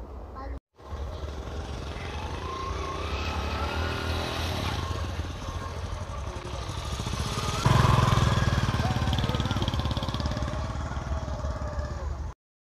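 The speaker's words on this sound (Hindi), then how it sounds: "हम जा रहे हैं बाइक पे, तो चलते हैं अपने शहर पत्तों की में।" A motorbike engine drones steadily while riding, rising a little partway through, with a voice speaking now and then over the rumble.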